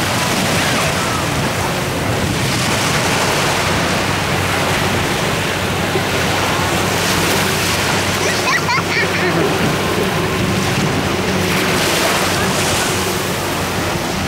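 Surf rolls in at Jomtien Beach, Thailand, near a buoyed swimming area at early evening, a continuous broadband wash of waves with wind over the microphone and someone talking throughout.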